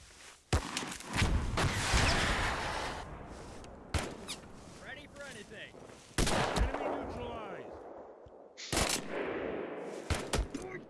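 Gunfire and explosions in the war game Mud and Blood come in loud bursts of rapid shots and heavy blasts, separated by brief lulls, with voices talking in between.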